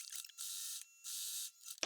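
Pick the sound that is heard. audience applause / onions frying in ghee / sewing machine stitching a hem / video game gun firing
sewing machine stitching a hem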